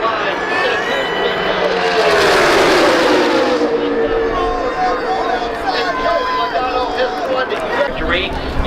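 NASCAR race cars thunder past at Talladega, a loud roaring engine pass swelling and fading over several seconds amid crowd noise, with a commentator talking over it.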